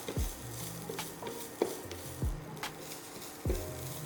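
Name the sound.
grated coconut roasting in coconut oil, being stirred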